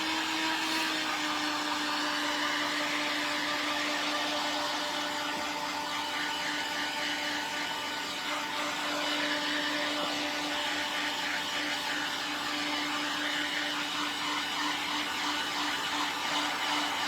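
Heat gun blowing steadily on a thrifted piece being given a faux rust finish, a continuous loud whirring fan with a fixed motor hum running without pause for the whole stretch.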